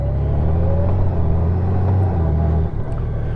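A 2019 Honda Goldwing 2000 DCT Tour motorcycle engine heard from the rider's seat while under way: a close, steady, deep rumble that holds evenly and dips briefly near the end, with no voices.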